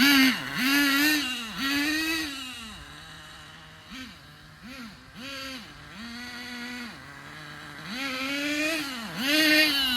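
A Thunder Tiger TS-4n RC nitro car engine buzzes and revs repeatedly in a driveway, its pitch rising and dipping with each throttle blip, sharp and close with a raspy rear exhaust tone.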